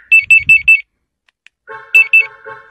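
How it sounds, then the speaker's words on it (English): Aftermarket car alarm system sounding: four quick high electronic beeps, a pause, then a lower warbling siren tone with two more beeps over it, loud and close. "once you disarm that alarm and turn it off, then and only then will it start."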